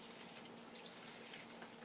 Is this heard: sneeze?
no